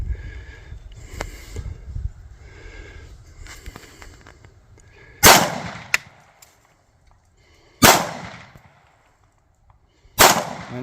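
A CZ 75 B pistol fires three sharp, loud shots spaced a few seconds apart at a shooting range, each with a short ringing tail, after a stretch of quieter handling noise and faint background sounds.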